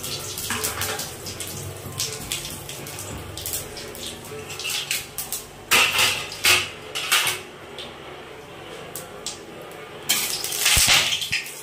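Pots and pans clank and scrape while spices temper in mustard oil and a little ghee, with sharp metallic knocks and a rushing, sizzling wash, loudest in clustered bursts toward the middle and end.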